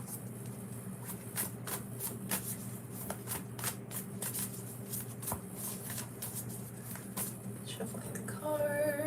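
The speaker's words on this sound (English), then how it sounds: "Shuffling the cards." Tarot cards being shuffled by hand, a rapid series of crisp riffling flicks repeating close up over a low steady hum, with a brief voice at the end.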